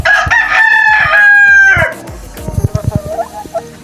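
A rooster crows loudly and close by, one long drawn-out cock-a-doodle-doo, followed by scattered clucks and short calls from chickens in a backyard flock.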